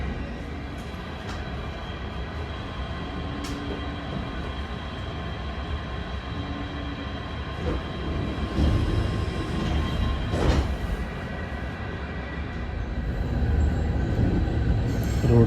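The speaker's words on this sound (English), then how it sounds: "This train is going to Disneyland Paris." An RER A commuter train runs through Paris in a continuous loud rumble of wheels on track heard from on board, with occasional squeals and knocks building toward the end.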